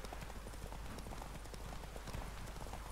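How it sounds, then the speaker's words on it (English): Horse hooves clip-clopping steadily in The Witcher 3, a continuous, fairly quiet trotting rhythm over a low rumble with no talk. "That's it, Roach"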